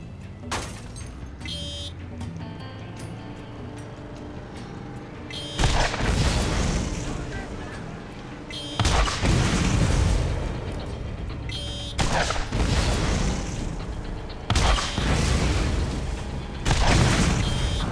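Rocket launcher blasts in the Borderlands video game: several loud, booming explosions arrive at irregular intervals, each with a long rumbling tail, over a quieter background of game sounds.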